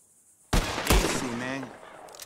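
Revolver-style gunshots in Red Dead Redemption 2, one sharp near blast followed quickly by a second, ringing into a brief game voice.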